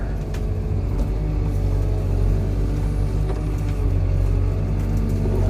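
A heavy digging machine with cold hydraulics runs on a frosty 17-degree morning of lot prep for a house demolition, a loud, close, steady low engine rumble and drone with slight swells, no talking.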